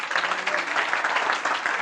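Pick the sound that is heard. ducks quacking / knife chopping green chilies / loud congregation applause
loud congregation applause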